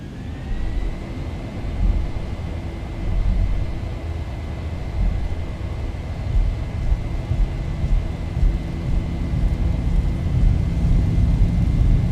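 Boeing 737 engines at takeoff thrust in the X-Plane 11 flight simulator: a loud, steady roar with a thin high whine held throughout, no voices.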